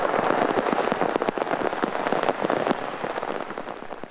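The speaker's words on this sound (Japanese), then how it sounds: "局所的に非常に激しい雨が降りました" Heavy downpour hammering surfaces during a localized torrential rainstorm in Shizuoka, a dense continuous roar with scattered sharp drop impacts, steady and loud throughout, slightly easing at the end.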